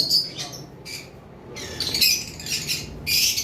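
A pair of lovebirds calling in a bird shop, sharp high squawks and chirps in short bursts, several overlapping calls close by against a quiet background.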